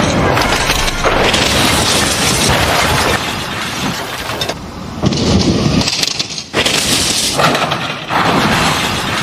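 A wedding limousine smashes to pieces in a crash stunt, with a dense, loud roar of breaking wood, glass and metal debris rolling on for several seconds.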